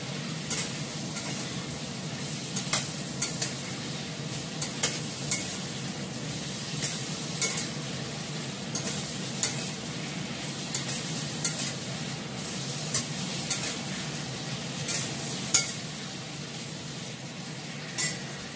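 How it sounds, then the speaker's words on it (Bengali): Food frying in a pan, with a steady sizzle and repeated scrapes and clinks of a spoon stirring against the metal throughout, fairly close and without talk. "ভালো করে একটু ভাজা করে নিচ্ছি আমি"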